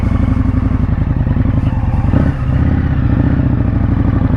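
A 2019 Indian Scout Bobber motorcycle with a 2-into-1 exhaust putts out of a small park at low speed, its steady, close, throbbing engine note running continuously with a brief dip partway through.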